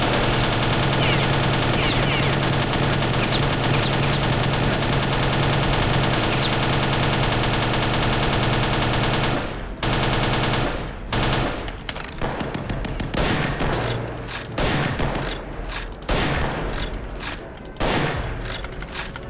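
Sustained machine-gun fire in a World War II video game rattles continuously, then breaks into separate loud bursts and single shots with short gaps between them.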